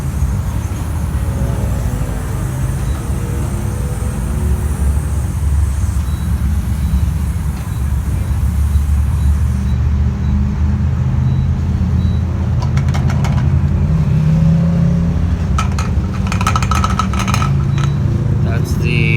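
A Ford Mustang engine rumbles and revs loudly and close by, a steady low drone that holds throughout with some rattling near the end.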